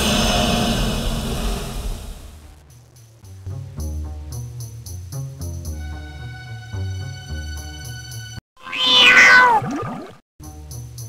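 A kitten meows loudly near the end of a stretch of PC game audio, one drawn-out cry after several seconds of music and ambient tones, with no speech.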